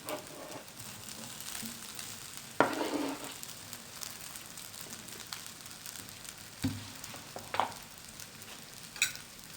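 Raw chicken pieces hit a hot pan for Mexican-style fajita rice, giving a steady sizzle with a sharp burst as they drop in, then brief stirring scrapes and small pops, no talking.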